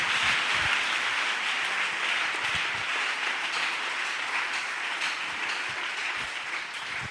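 A church congregation applauding together, a steady dense wash of clapping that holds at an even, fairly loud level throughout with no voices standing out.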